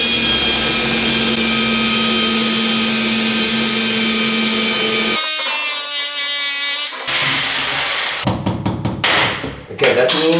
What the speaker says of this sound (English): Then I use a tile drill bit.